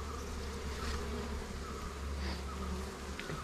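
Honey bees buzz steadily around an open hive, a dense continuous drone close by with no pauses, broken only by a few brief sharper sounds near the end.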